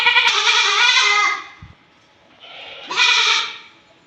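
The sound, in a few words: goat bleating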